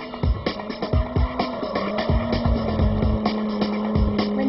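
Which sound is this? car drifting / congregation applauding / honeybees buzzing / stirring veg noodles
car drifting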